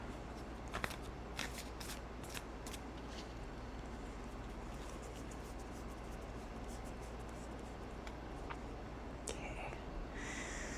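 Oracle cards from a Nature's Whispers deck being shuffled by hand, a soft papery riffling with sharp snaps near the start, close and quiet over a steady low background hum.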